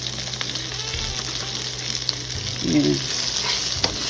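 Onions frying in a pan for Italian meatballs give a steady, close sizzle throughout, with brief stirring scrapes and a short spoken word near the end.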